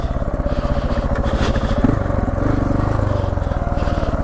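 A motorcycle engine labors steadily while riding up a hill, loud and close with a rapid pulsing throb that shifts slightly mid-way, wind noise over it and no speech.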